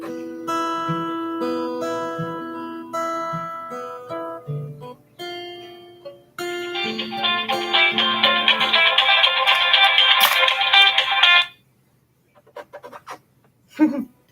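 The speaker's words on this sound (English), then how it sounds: "I get a phone call while I'm live." A phone ringtone plays a repeating melodic tune, loud and close, for about ten seconds before cutting off, followed by a brief faint noise.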